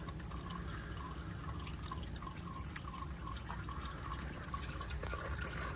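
Engine oil drains from a 2011–2016 Chrysler Town & Country into a drain pan. A faint, steady trickle of liquid comes with scattered small drips, quiet and continuous, with no voices.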